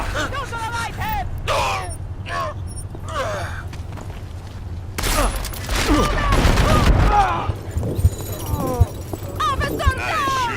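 Gunfire in the Deus Ex video game, bursts of shots with clanking mechanisms and shattering, mixed under loud shouting voices and footsteps.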